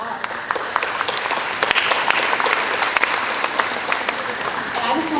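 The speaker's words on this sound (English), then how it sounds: "Awesome, round of applause." A college orientation class applauds first-generation college students, with steady, dense clapping from a roomful of people, sustained and fairly loud with a few sharper individual claps standing out.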